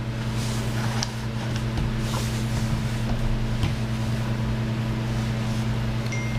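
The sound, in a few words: KingTech 160 G4 model jet turbine starting and running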